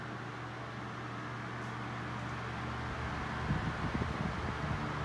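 A 1970s Sears oscillating desk fan with green blades running on high gives a steady, soft whirring hum with a faint harmonic tone, plus some wind rumble against the microphone.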